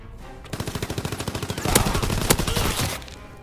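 Rapid machine gun fire in the World War II shooter Call of Duty WW2, a fast steady burst of close, loud shots that swells into a heavier, denser volley with sharp impact cracks before tapering off.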